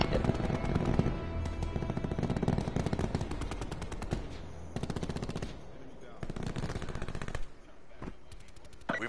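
Rapid automatic gunfire from a multiplayer shooter video game rattles almost continuously in loud sustained bursts, with only brief breaks and a couple of short gaps, while voices speak over the action.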